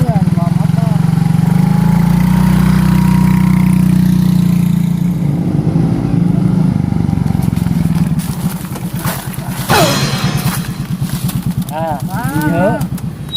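Motorcycle engine idling and running with a steady low rumble throughout, loud and close, while several people talk over it in Sundanese comedic banter.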